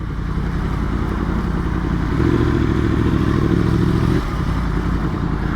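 A Yamaha FZ-10 motorcycle on a commute to work in Boston gives off a loud, steady engine drone from close by, swelling into a harder rev for a couple of seconds mid-ride before easing back, with no talking.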